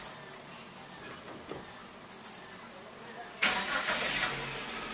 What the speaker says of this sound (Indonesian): kita coba nyalain mesinnya.